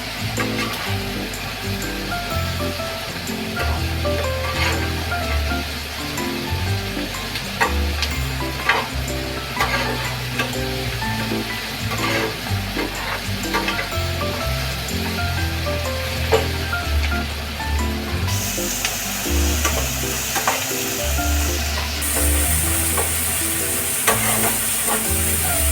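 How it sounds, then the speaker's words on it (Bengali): Chopped onion and tomato fry with turmeric in a pan for an egg tarka. A steady, close sizzle runs throughout, with repeated scraping stirs. No one speaks. "এবার এটাকে আমি একটু লাল লাল করে যাতে ভাজা হয় পেঁয়াজটা আর টমেটোটা একটু সেদ্ধ হয়ে যায়"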